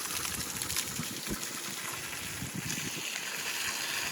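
Water gushing steadily out of an RV water heater tank through the drain opening with the anode rod pulled, a continuous splashing rush that holds the same level the whole time.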